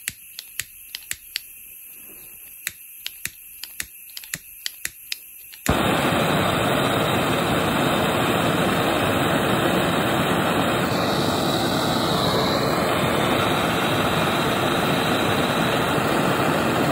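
A homemade GoSystem gas torch first gives a few sharp ignition clicks. Then it catches and roars with a loud, steady, rushing flame that lasts to the end.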